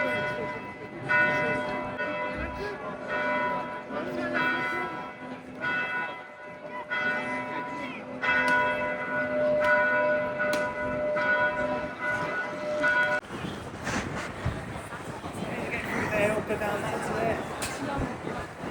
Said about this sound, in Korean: 지금 이 들리는 종소리가 미사 끝나면 들리는 종소리라고 합니다